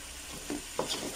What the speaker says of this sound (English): You can see that the curry powder is frying in the oil.